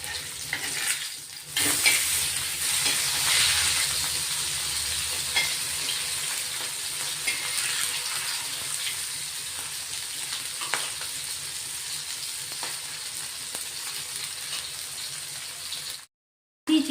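Surmai kingfish slices fry in a pan over a medium flame, a close, steady crackling sizzle with occasional spatula touches that runs almost the whole time before cutting off abruptly near the end.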